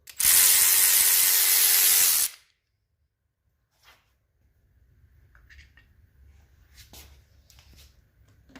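A ratchet runs a 10mm timing chain guide bolt on a Gen 1 Ford Coyote 5.0 engine: one loud, steady mechanical whir for about two seconds, then near silence with faint clinks and handling noises.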